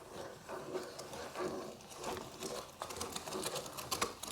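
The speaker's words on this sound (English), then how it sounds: "Only about 14 turns to grind one piece." Meat being cranked through a clear plastic manual meat grinder, a close rhythmic squelching and clicking that rises and falls with each turn of the handle.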